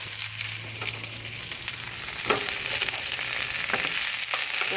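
Okra fries in a pan on a gas stove with a steady, bright sizzle and crackle, a faint low hum underneath and an occasional stir or pop, no voices.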